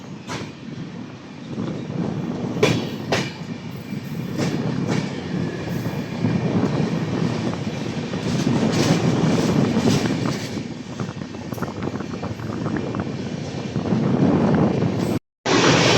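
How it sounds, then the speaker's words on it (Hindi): The Sealdah Rajdhani express of Eastern Railway passes on an Indian line, its coaches rumbling and clattering at close range with a continuous roar and repeated wheel clicks and brief sharp bangs throughout. "और इसके पीछे आ रही है भाई साहब शियालदह राजधानी, ईस्टर्न रेलवे की किंग"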